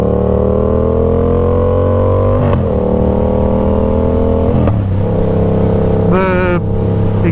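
A 2015 Yamaha MT-07 motorcycle with a straight-pipe exhaust runs loud and close, holding a steady, droning rumble with a few quick throttle blips and a sharper rev near the end.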